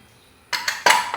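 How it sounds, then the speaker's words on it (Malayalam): Jackfruit curry is tipped into a pressure cooker, giving two brief metallic clatters of spoon and pot close by, with no talking. "നമുക്കിത് കുക്കറിനകത്തോട്ട് ഇട്ട് കൊടുക്കാം കേട്ടോ"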